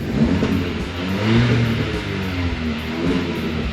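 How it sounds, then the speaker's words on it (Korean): A Hyundai Avante N Line 1.6 turbo engine note, played through a sound generator speaker rather than the exhaust, revs with a deep, buzzy growl that rises and falls, steady and close, with no talking. "이 뒤에 부르르릉 하는 이거 이 머플러의 소리가 아니고 얘는 스피커의 소리예요"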